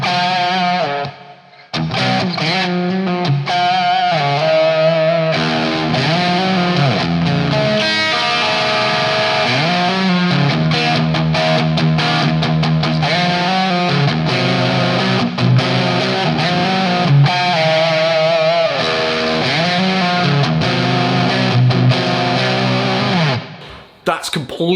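A distorted electric guitar with a brown sound and ToneX plate reverb plays steady riffs and sustained chords with a wide, shimmering reverb tail, loud and continuous before cutting off near the end.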